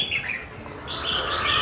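Pet birds kept by a bonsai sculptor chirp in short bright bursts at moderate distance, with faint background noise and no talk.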